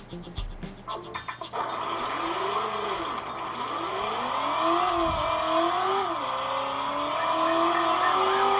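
Car engine sounds from the PS1 driving game Driver, played on an Anbernic RG35XX handheld, with engine pitch rising and falling through gear shifts and a brief tire squeal, steady and close.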